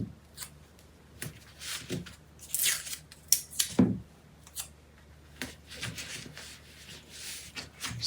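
Scissors snip through a paper tape sewing pattern in short, crisp cuts at an irregular pace, close up, with rustling paper between the snips and no talking.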